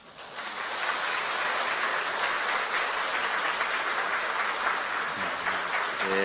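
A church audience claps steadily to welcome Professor Lee Bae-yong, a dense, even wash of applause that swells quickly and holds at full strength without any voices.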